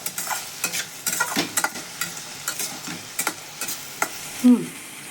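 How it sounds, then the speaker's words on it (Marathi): Boiled egg roll filling with turmeric stirred and fried in a pan: close, brisk spatula scrapes and clinks in an uneven rhythm over a light sizzle, with one louder knock near the end and no voices. "छान हलवून घे सगळं एक जीव कर"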